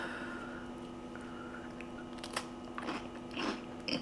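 Someone bites into a broken cracker loaded with fluffy no-bake pumpkin dip, a few crisp crunches and chewing sounds close up over quiet room tone.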